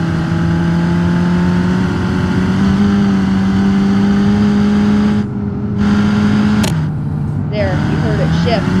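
A gasoline Cherrier Vivace car in BeamNG.Drive holds a loud, steady engine drone that climbs slowly in pitch, then cuts out briefly as the gears shift and resumes at a lower pitch before rising again.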